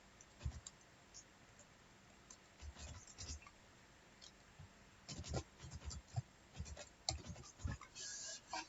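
Quiet, irregular clicks and taps from a computer keyboard as a command is typed at a command line for a network device setup, in scattered bursts with gaps between them.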